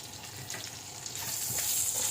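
Onions being stirred as they fry in rendered pork fat for laing make a soft, fairly quiet sizzle. Faint stirring scrapes come through and the sizzle grows slightly louder toward the end.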